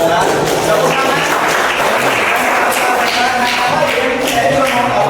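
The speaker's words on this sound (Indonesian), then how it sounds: "Tepuk tangan." A classroom of students claps together in a steady, dense patter of applause lasting several seconds, with a few voices mixed in underneath.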